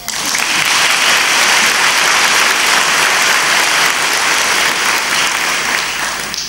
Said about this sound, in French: Merci de vos applaudissements.